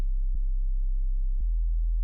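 A low sine-wave synth bass in FL Studio, shaped with a couple of filters and a touch of distortion, drones steadily with a soft click and pitch step at each of two note changes.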